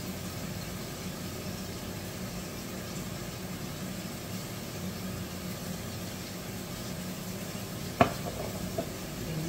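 Sauce going into a hot pan while a utensil stirs, soft steady sizzle and scraping with one sharp clack near the end, fairly quiet and without talk.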